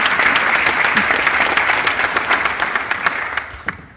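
A crowd applauds steadily, dense clapping filling the room, with a few louder individual claps standing out before it begins to thin toward the end.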